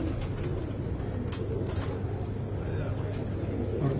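Pigeons kept by Punjabi pigeon fanciers coo softly and continuously, close by, beneath a steady low rumble of outdoor noise and faint traffic, with no clear speech.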